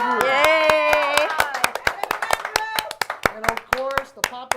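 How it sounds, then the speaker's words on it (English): An audience claps with hands at a band concert, producing dense rapid applause close by that thins into scattered claps, with a voice speaking over it. "But give her a round of applause."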